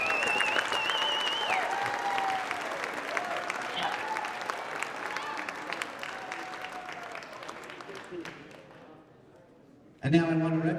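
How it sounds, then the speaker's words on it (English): Inductees at a college Hall of Fame ceremony receive a long round of audience applause, dense clapping with occasional voices that gradually tapers off before a speaker resumes talking. "Let's give them a nice round of applause,"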